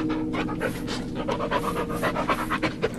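A dog pants rapidly and close by in the horror video game Blair Witch, a rhythmic run of breathy huffs that continues throughout without talking.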